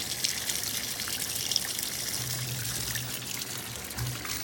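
An LG top-load washing machine fills with hot water, giving a steady, close rushing pour and trickle that runs continuously without pauses, with no voices over it.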